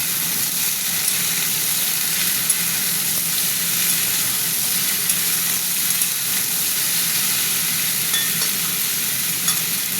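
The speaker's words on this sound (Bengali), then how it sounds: "আলুর সঙ্গে আমি ফুলকপিটাও দিয়ে দেবো, একসঙ্গে ভাজবো।" Potatoes and cauliflower fry together in oil for a vegetarian curry, giving a steady, close sizzle with scattered small crackles and occasional stirring clinks, no voices.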